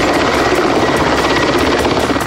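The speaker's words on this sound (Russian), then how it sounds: "А вот и вертолеты." Helicopters flying over an American police chase, a loud, steady rotor and turbine roar that holds continuously throughout with no talking.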